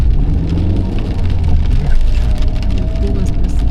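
Rain falls on a car driving through Puerto del Rosario on Fuerteventura, a steady dense patter blended with continuous road and engine hum, fairly loud throughout.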